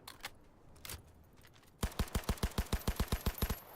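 Rapid automatic gunfire from a gun in Cyberpunk 2077: a few scattered shots, then a steady, even burst of about fifteen loud, close rounds in quick rhythm.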